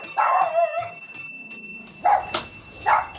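Dogs bark at a front door in a series of short, loud yaps, one near the start and two more toward the end, with quieter room noise between them.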